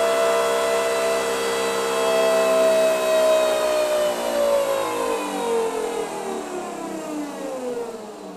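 A fuel injection system on a test bench spins at 4,000 cam speed, equal to 8,000 engine RPM, giving a loud, steady mechanical whine and whir with harmonic tones sliding slowly downward, continuous and close with no talking.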